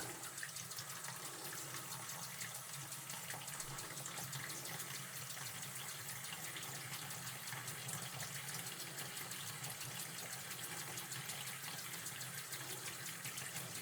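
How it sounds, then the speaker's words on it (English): Water runs steadily from a tap into a pan holding chicken, a continuous rushing splash with no pauses, fairly faint and even throughout. "Let me just add water."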